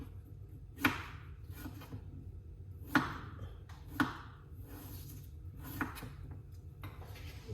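A knife cuts pieces off a chunk of ginger in four sharp, separate knocks against a board, spaced a second or two apart, with quiet stretches between.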